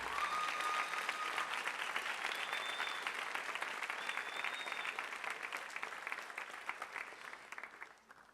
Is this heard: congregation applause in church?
yes